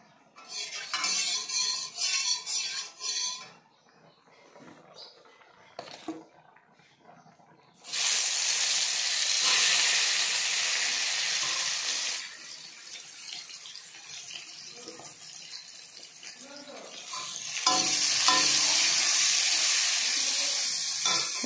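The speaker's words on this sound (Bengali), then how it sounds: "এদিকে আমাদের ভাজা বড়া হচ্ছে" Bora fritters deep-fry in hot oil during home cooking for Chaitra Sankranti, giving a loud, steady broadband sizzle in long stretches broken by quieter clinks and kitchen handling.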